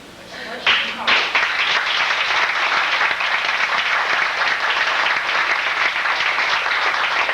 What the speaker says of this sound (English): Really nice clap.